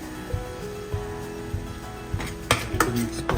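A utensil scrapes and clinks against a pan while a paste of dried red chili with a little water is stirred on the stove, with metallic knocks growing louder toward the end.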